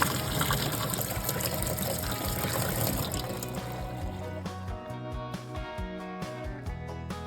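Water runs from a newly installed kitchen or bathroom faucet after the supply is turned back on, a steady rushing gush that thins into a lighter splashing trickle with faint knocks toward the end.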